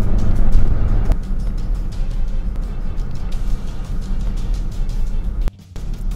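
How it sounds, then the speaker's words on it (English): A car accelerating to 70 km/h during a tyre safety lane-change demonstration, a steady engine and road rumble heard from inside, holding fairly constant before a brief dropout near the end. "we are going to accelerate to 70 kilometers per hour in order to demonstrate the maneuver"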